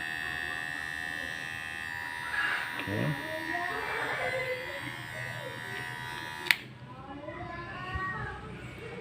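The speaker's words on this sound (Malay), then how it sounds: "Putaan ni tak ada bising sangat, dia punya bunyi okey lah" A Geemy cordless electric hair clipper runs with a steady, fairly quiet buzz under a person talking, then cuts off abruptly with a click near the end.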